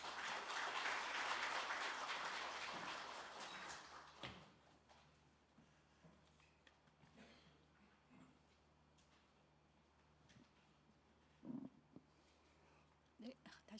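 An audience at a formal Korean constitutional law ceremony gives a burst of steady clapping for about four seconds, then it dies away into a quiet hall with a few soft knocks and shuffles.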